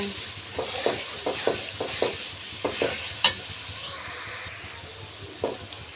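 Chili, turmeric and cumin powders with ginger paste fry in a pan, a steady sizzle broken by repeated scraping stirs in an irregular rhythm, close and moderately loud with no voices.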